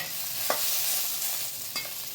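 Okra stir-fries in a pan over medium heat, giving a continuous sizzle with a few sharp scrapes of a spatula. No one speaks.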